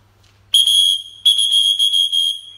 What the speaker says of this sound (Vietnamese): Còi này mới để dạy chim à.